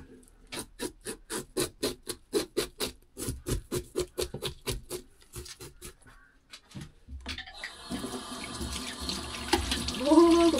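Cold water from a tap pours steadily into a sink after a run of rhythmic rubbing strokes, the flow close and continuous with no one speaking.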